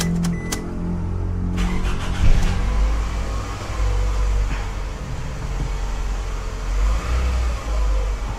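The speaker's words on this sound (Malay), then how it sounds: "Okey, kereta sudah hidup." A car engine cranks over and catches, then settles into a steady low idle that continues at moderate loudness, with a brief rev partway through, after a new immobiliser-chip key is programmed.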